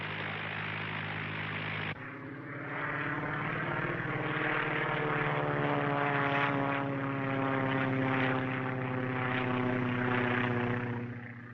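A propeller airplane drones overhead in an old serial film. A steady, loud, humming engine tone swells slightly after the first couple of seconds and holds throughout, with no speech.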